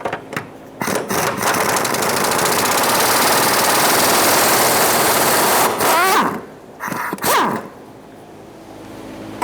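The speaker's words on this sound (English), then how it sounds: "Remove the fuel tank strap nuts using a 13mm socket." A power tool or impact wrench runs loud and continuous for several seconds, removing the fuel tank strap nuts with a 13mm socket under a 2012-2020 Chevrolet Sonic, then stops and gives two brief bursts.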